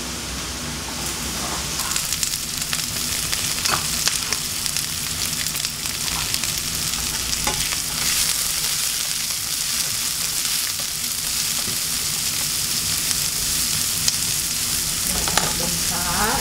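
Vegetables with ginger and garlic stir-frying in a pan for tofu and mushroom rice noodles, a loud continuous sizzle with occasional clinks and scrapes of stirring, close up and without speech.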